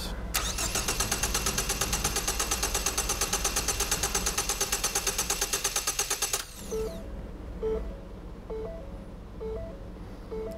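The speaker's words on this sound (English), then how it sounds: "Crank engine for 10 seconds." A Ford engine cranking over on the starter during a relative compression test: a steady, rapid, even chugging rhythm for about six seconds, then the cranking stops and soft electronic beeps follow over a quiet background.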